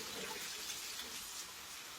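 Hot water splashes and pours steadily into a jar at close range, a soft continuous liquid rush over about two seconds with no one talking.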